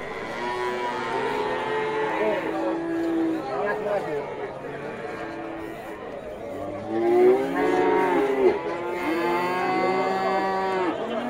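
Young bulls of Limousin and Pegon breeds, about seven months old, moo repeatedly at a busy livestock market in Indonesia, long lowing calls rising over a steady crowd murmur and nearby chatter.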